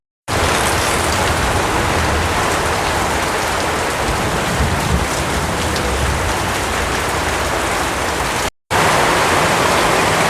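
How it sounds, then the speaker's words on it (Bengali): Heavy rain pours steadily in a village, a dense, loud, unbroken hiss lasting throughout with a momentary cut near the end, no voices. "এখন তো তুমুল বৃষ্টি হচ্ছে"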